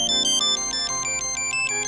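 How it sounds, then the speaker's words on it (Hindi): A mobile phone ringtone rings loud and close, a repeating melodic electronic tune with bright pulsing tones over a steady musical backing, no voices. "तुम्हारा फोन बज रहा है।"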